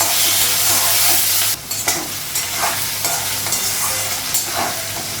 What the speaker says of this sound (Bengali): পেঁয়াজটা আলুটা ভাজা হয়ে গেছে